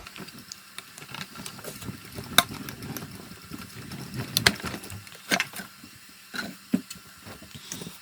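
A hand-cranked die-cutting machine being turned during papercraft card making, giving close, uneven rumbling and creaking with scattered clicks and knocks as the rollers run.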